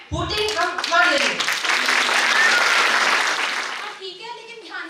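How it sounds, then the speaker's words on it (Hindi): Students clap at the start of a skit during a self defence workshop at a girls' college, a loud burst of applause that swells, holds and then fades as voices speak before and after. "शुरुआत में तालियां बजा दीजिए, हुटिंग हम मार लेंगे।"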